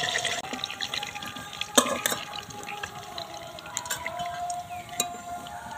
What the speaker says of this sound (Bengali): তেলটা খুব ভালো করে ঝরিয়ে নিলাম।